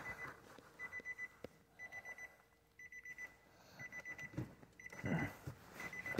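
Hazard lights of a 2010 Infiniti G37 tick in a steady, even rhythm, soft and close, with faint rustling from work on the car underneath.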